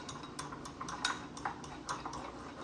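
Food being stirred together in a bowl with a utensil, giving a run of light, irregular clinks and scrapes against the dish over a soft background hiss.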